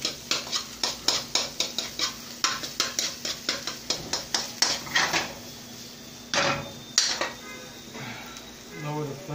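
Egg being scrambled in a pan for home-style egg fried rice: a quick, steady run of metal spatula clanks and scrapes against the pan over a soft sizzle, slowing to a few scattered knocks toward the end.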